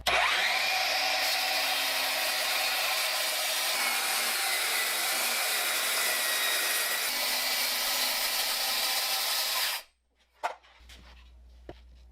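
A saw guided along a BORA rip guide cuts wood in one long, loud, steady roaring pass lasting about ten seconds, then stops abruptly, followed by a few faint knocks and a low hum.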